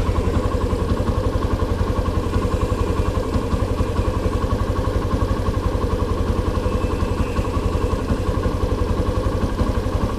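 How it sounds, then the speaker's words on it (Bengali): Motorcycle engine running near at a steady idle, a rapid even low putter that continues unbroken and loud throughout with no voices. "এই যে দেখছেন বাইক কিন্তু চলে আসছে।"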